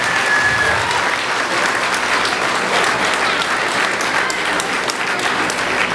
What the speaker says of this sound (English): let's have a big round of applause for both of these fighters